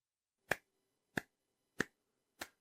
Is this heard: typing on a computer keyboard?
no